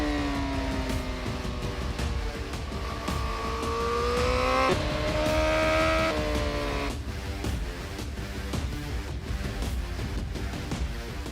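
A Honda street motorcycle accelerates hard toward top speed, its engine note climbing steadily through gears with brief dips at shifts, loud and close with heavy wind rush throughout.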